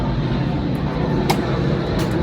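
An airplane passes overhead, giving a broad, steady roar that fills the space around a camper van with no talking.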